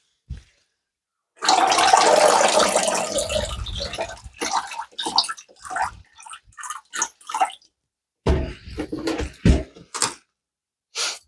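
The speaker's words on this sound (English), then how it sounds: "I'm going to give it one more rinse through from the tap" Tap water rinses a peace lily plant: a loud gush of running water, then broken splashes and drips in uneven bursts, close by, with brief silences between.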